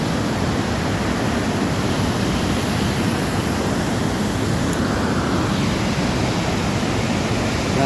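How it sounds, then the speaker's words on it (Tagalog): Waterfall spray in Geiranger, Norway: a dense, constant rushing hiss like heavy rain, loud and unbroken throughout, with no voices. "See parang umulan dito guys dahil sa falls guys."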